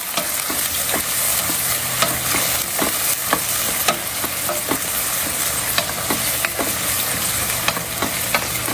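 Sliced onion and two green chillies frying in hot oil for chicken biryani, a loud continuous sizzle close by, with frequent sharp scrapes and taps of a stirring spoon throughout.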